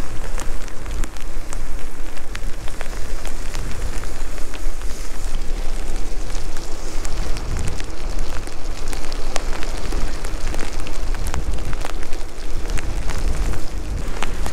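Steady rain falling in wet city weather while a food delivery courier rides, a dense continuous hiss of drops with scattered louder splats, close and loud throughout with no talk.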